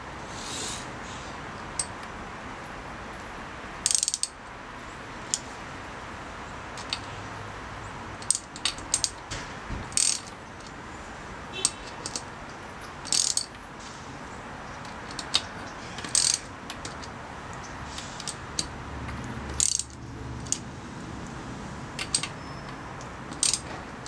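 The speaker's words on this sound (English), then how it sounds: "Just going to evenly tighten the bolts until the caps press on." A ratchet tightening bolts on the engine caps of a 2002 Triumph Bonneville America during a motor rebuild, short bursts of close clicking repeated at irregular intervals over a quiet workshop background.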